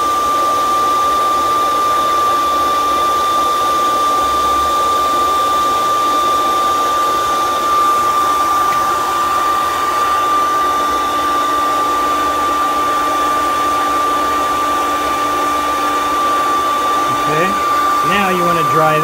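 A torch blows on a freshly thrown clay bottle to dry it, making a loud, steady roaring hiss that runs unbroken for the whole stretch, close and alone.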